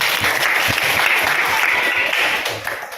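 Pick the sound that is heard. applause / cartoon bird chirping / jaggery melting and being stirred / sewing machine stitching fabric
applause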